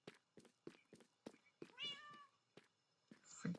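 A cat meows in the Minecraft video game, several short mews and one longer drawn-out meow among light clicks and taps, close and fairly soft with no talking.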